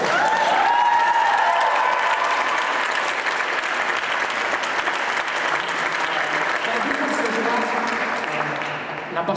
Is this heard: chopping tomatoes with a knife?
no